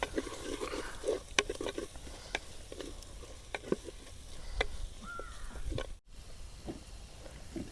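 Coriander powder and spices fry and get stirred in a pan for fish head curry, a faint continuous sizzle broken by soft scraping clicks of the spoon, close by and without talking.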